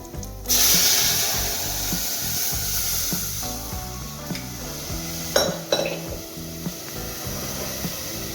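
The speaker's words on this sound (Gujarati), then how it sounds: "હવે આપણે દાળનો વઘાર કરી નાખીએ." Steady sizzling and crackling of hot oil tempering with curry leaves and asafoetida poured into dal, with a sharper hiss partway through and occasional clinks of a spoon against a pot. No voices.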